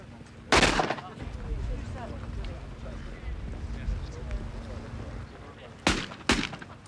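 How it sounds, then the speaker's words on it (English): Shotgun blasts ring out at a clay pigeon shooting competition, one loud report near the start and two more in quick succession toward the end. A narrator talks over the outdoor background throughout. "They too shoot down 30 of the 40 clays and finish the day in 7th position."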